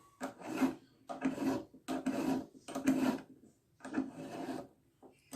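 A hand file rasps along the inside of a metal ring blank in five steady, rhythmic strokes, close and loud with short pauses between passes.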